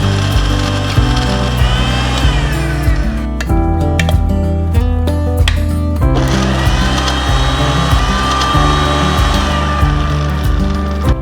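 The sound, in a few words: mixer grinder grinding mango and green chilli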